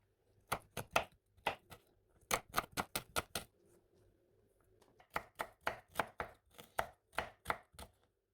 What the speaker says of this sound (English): I'm chopping up really, really fine